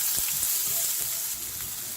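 Chopped onion, green chili, curry leaves and ginger sauté in hot oil in a pan, giving a steady close sizzle with faint stirring clicks and no voices.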